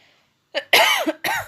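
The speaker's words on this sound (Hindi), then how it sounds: "खांसी होने लग जाती है।" A few harsh, close coughs in quick succession, the first short and the next two longer and raspy.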